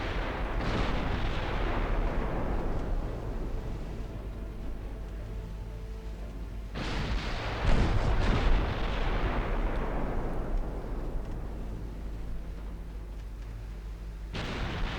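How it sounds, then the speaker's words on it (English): Naval gunfire from 5-inch and 4-inch guns in the Ultimate Admiral Dreadnoughts naval warfare game: three heavy booming salvos, one at the start, one near the middle and one at the end, each rolling on with long rumbling decay. No voices. "Get out of the range of their 5 and 4-inch guns."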